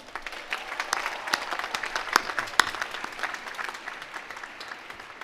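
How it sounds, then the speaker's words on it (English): Audience at a university graduation ceremony breaks into sustained applause, a dense wash of many hands clapping steadily at moderate distance, with a few sharper claps standing out. "Please join me in a round of applause for all of them."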